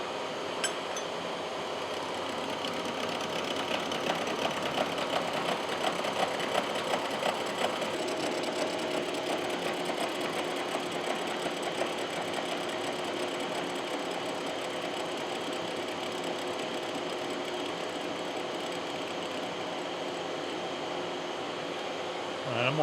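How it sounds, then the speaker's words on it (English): A horizontal milling machine cuts across a cast iron straight edge, giving a steady mechanical drone with faint rhythmic chatter that runs evenly throughout, moderately loud with no talk. "And let's machine across."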